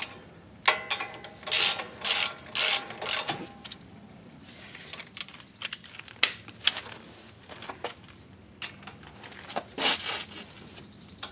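Bursts of ratcheting clicks as a ratchet wrench snugs down 13/16 bolts on the front wheel hub of a 2007 Dodge Durango, several quick runs of clicking with pauses and tool handling in between.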